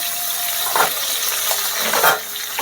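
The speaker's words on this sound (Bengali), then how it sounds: "মাছ ভাজা করছি। এদিকে পাবদা মাছ বসিয়ে দিয়েছি" Pabda and tilapia fish fry in hot oil in two pans on a gas stove, a steady close sizzle with a few louder crackling bursts, no voices.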